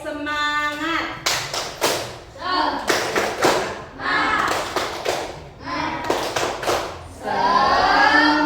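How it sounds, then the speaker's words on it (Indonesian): A group in a guided teaching-practice class does the rhythmic tepuk semangat spirit clap, sharp patterned hand claps in quick bursts mixed with voices chanting along, close and loud. "Tepuk semangat."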